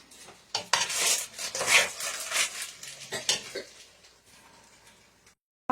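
Onion and garlic pasta with parsley being tossed in a pan, with steady clattering and scraping of a utensil against the pan and a faint sizzle underneath, loudest early on and fading toward the end.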